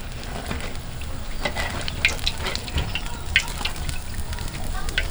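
Bagnet pork belly frying in cooking oil outdoors, a steady broadband sizzle with scattered crackles and pops running throughout at close range, with no talking.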